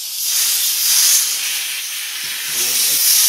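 In a garage where a wrecked 2019 Honda Grom is being rebuilt, an air compressor lets out a loud, close, steady hiss throughout. A brief voice murmurs near the end.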